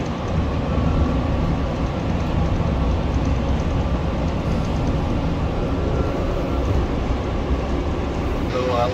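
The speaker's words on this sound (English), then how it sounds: "Sky train's here, it's pretty packed." Crowded SkyTrain pulling into a station, a loud continuous rushing rumble of wheels and carriage noise that fills the whole stretch, with indistinct crowd murmur blended underneath.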